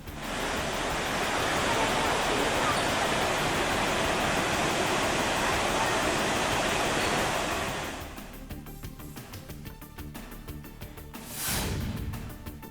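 Floodwater roars over Thirparappu waterfall, a loud continuous broadband rush that cuts off abruptly, leaving quieter background sounds with a brief swell near the end.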